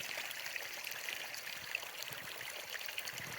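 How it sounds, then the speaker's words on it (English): Floodwater streams steadily along a completely flooded Appalachian Trail in New Jersey, a continuous broadband rush and trickle of moving water close by, with no voices. "The trail is completely flooded, and it's just warm pouring"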